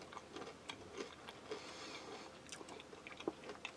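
Quiet, close crunching as someone chews crispy freeze-dried pineapple and berries from a Polish ration menu, with irregular crisp bites and small clicks and no talking.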